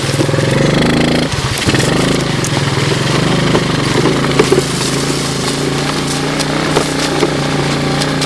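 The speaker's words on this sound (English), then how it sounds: "This is a small little bike, only 100 cc's." A small 100cc Yamaha Champ motorcycle pushes through overgrown brush, its engine buzzing loudly and steadily at close range with small shifts in throttle and no talking.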